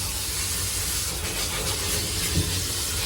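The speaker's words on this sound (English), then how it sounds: "sprayer right up on top of the pads there and just rinse them out" A pressure sprayer gives a continuous, close, broad hiss of water as it rinses out pads during maintenance work, holding steady and loud throughout with no voices.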